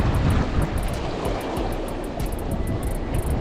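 Water churned by a passing boat's wake in a Florida fishing spot sloshes and washes steadily, mixed with wind buffeting the microphone and no talk.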